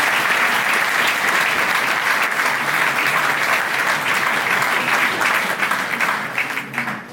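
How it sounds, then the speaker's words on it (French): Loud, sustained applause from an audience at a New Year wishes ceremony, a dense wash of clapping that holds steady and eases slightly near the end. "vous pouvez applaudir la métropole"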